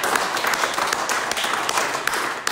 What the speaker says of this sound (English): So can we have a big round of applause for Anna, please?